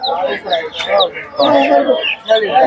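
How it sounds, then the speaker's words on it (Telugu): Chickens, including silkie chickens, cluck and cackle in repeated bursts close by, with higher chirping cheeps of chicks mixed in between, at a Sunday market in Hyderabad. "కోడి పిల్లలు,"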